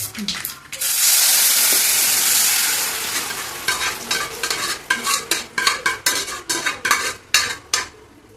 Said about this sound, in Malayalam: കടച്ചക്ക ഇട്ട് കൊടുത്തിട്ടേ നമുക്കിതൊന്ന് ഇളക്കാം